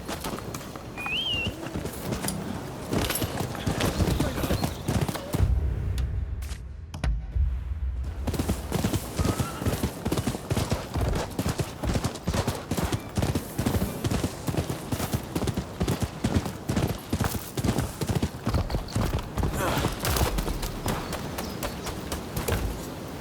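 Horse hooves clip-clop steadily in the video game Rise of the Ronin, a continuous rhythmic trot close by, with birdsong faintly behind and a short hush partway through before the hoofbeats resume.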